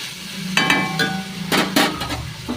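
Moong dal stirred with a spoon in a pan for tempering, with several close, sharp metallic scrapes and clinks against the pan over a light sizzle, no talk.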